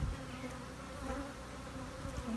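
Many honeybees buzz around a hive being split by a novice beekeeper outdoors, a thick, steady drone close by with slight swells in loudness.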